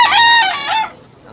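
An imported rooster gives a single loud, close crow that breaks off abruptly, leaving faint background noise.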